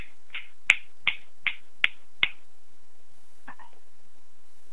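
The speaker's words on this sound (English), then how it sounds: "Gave you your snaps." Five crisp finger snaps in an evenly spaced run at a spiritual healing gathering, close and clear against near silence, followed by a faint softer sound.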